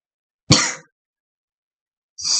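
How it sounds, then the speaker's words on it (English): A single short cough bursts out loud and close, then a second one begins about two seconds later after a stretch of silence. "Stupid cough."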